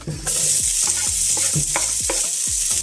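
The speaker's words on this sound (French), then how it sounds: "On rajoute maintenant nos oignons." Onions hit a hot pot for a Caribbean fish court-bouillon, bursting into a loud steady sizzle while a utensil scrapes and stirs in quick repeated strokes, close up with no talk.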